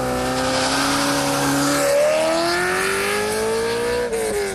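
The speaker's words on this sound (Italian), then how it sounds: "Il rombo del cavallino rampante sulla pista dell'aeroporto di Scalea" More than sixty Ferrari sports cars roar past on the airport runway at Scalea, with loud, continuous engine noise and rising revs as the cars close in and pass, and no speech.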